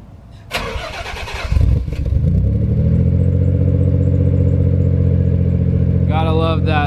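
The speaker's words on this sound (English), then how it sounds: "let's get a cold start clip for you guys" A Nissan 300ZX with an HKS exhaust cranks and fires up on a cold start, then settles into a loud, steady idle, with a brief high belt squeal near the end.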